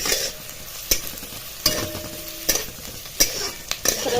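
Onions stirred and sautéed in a pan for a bazaar-style amti, a low steady sizzle punctuated by regular spoon scrapes and knocks against the pan every second or so, no voices.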